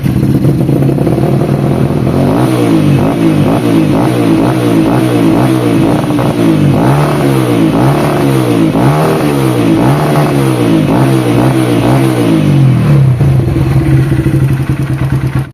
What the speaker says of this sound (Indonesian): Kita tes CRF karbu dan CDI